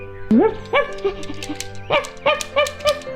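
A toy doll's dog gives several short high yips and whimpers, including a rising whine, in quick close bursts, loud and alone.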